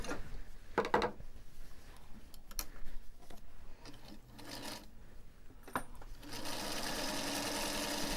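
A sewing machine stitching straight across a pencil line on recycled denim for a thread catcher, with short bursts of rapid needle clatter broken by pauses and small clicks, then a longer steady run at the end, close and fairly quiet.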